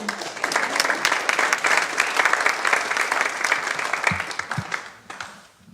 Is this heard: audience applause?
yes